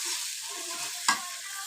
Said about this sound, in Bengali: কড়াতে সরষের তেল দিয়ে তেজপাতা দিয়ে দিলাম দিয়ে এর মধ্যে এলাচ দারচিনি দিয়ে দিলাম দিয়ে পেঁয়াজ কুচি দিয়ে দিলাম